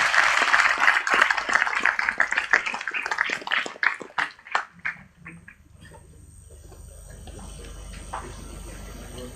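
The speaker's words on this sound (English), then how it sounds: "a big round of applause for the team who have developed these technologies and made this technology transfer realizable today" An audience claps for a technology development team at a CSIR-NIIST programme inauguration; scattered claps taper off into quiet room noise within a few seconds.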